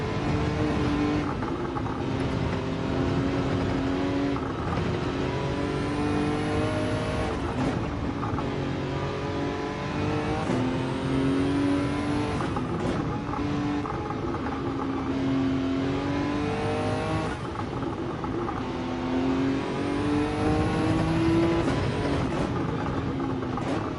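A racing car engine in Gran Turismo 7 holds a steady, loud drone, its pitch climbing and dropping over and over as it revs up through the gears and shifts, with no talk over it.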